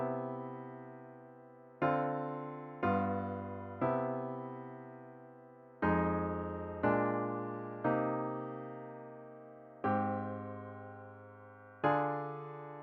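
Piano-like sustained chords play a jazz ii-V-I progression using a borrowed minor ii-V, eight chords struck one after another at an unhurried, slightly uneven pace, each ringing and decaying before the next, clear and alone.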